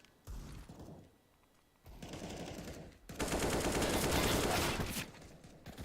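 Gunfire in an esports shooter match with a CZ pistol in play: short bursts of shots, then a brief lull, then a sustained loud rapid volley that fades out near the end.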